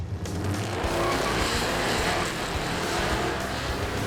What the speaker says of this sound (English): Yep, see, I spun the tires that time. That big old burnout burned me.